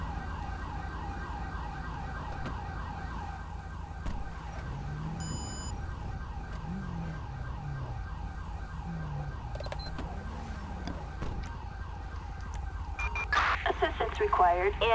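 An ambulance siren in Grand Theft Auto V with the LSPDFR mod wails in steady, repeating up-and-down sweeps for the whole stretch, loud and continuous over a low engine rumble, with a brief burst of sharper noise near the end.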